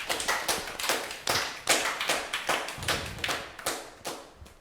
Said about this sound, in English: Clap for them again.